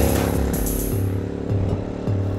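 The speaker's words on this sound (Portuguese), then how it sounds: "Esse escapamento duplo e alto é uma característica desse tipo de moto. Esse aqui tem um ronco bem gostoso." Triumph Scrambler motorcycle idling through its high-mounted dual exhaust, a close, steady low rumble with a few brief throttle blips that deepen and swell the tone.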